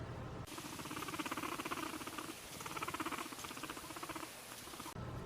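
A guinea pig rumble struts, making a low, rapid vibrating rumble, pulsing in short rhythmic bursts, close and alone.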